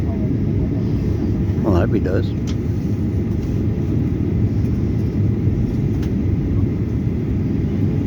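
Airplane coming in to land at Sydney airport over Kurnell, a steady broad roar throughout with wind buffeting, heard from a distance while a person talks briefly.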